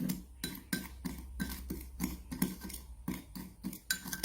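Scraped vanilla bean seeds being stirred into sugar in a bowl, a quick steady series of clinking, scraping spoon strokes, close and fairly quiet.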